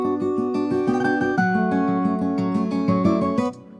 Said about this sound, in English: it's just picked acoustic and it sounds pretty good